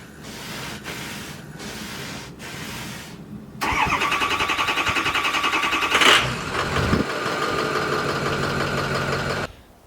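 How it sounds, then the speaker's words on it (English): A 4-wheel-drive diesel truck on a snowy farm: a few starter cranks, then the engine catches and settles into a loud, steady clattering idle for several seconds before cutting off. "Just coming out here to start the diesel."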